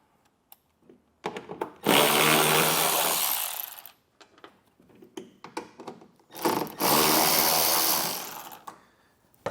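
A power driver backs out two 8mm screws holding a vehicle taillight. Two separate loud, whining bursts of about two seconds each are split by a pause full of light clicks and handling taps.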